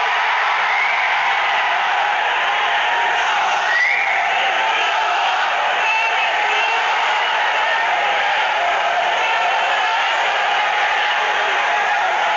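A large crowd at a public meeting roars continuously, loud and steady throughout, a thick wall of voices with no single voice standing out.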